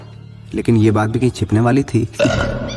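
A loud, drawn-out burp rises near the end of a man's spoken line, close and resonant, following continuous talk.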